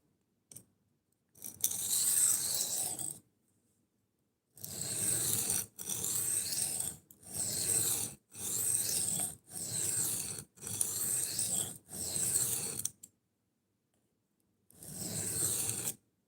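A knife tip is ground on an Atoma 140 grit diamond plate in a series of loud, rasping scraping strokes, each lasting about a second with short pauses between, steady and close, with no talking.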